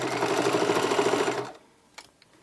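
A sewing machine topstitching around the edge of a drawstring backpack runs close and steady for about a second and a half, then stops, leaving a couple of small clicks.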